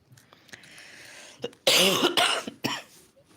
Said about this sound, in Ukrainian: Пробачте, друзі, цей кашель.